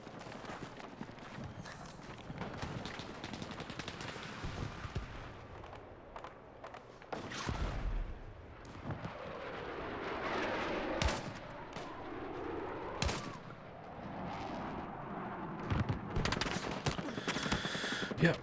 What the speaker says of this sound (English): Yeah, I'm just getting lit up by that machine gun position.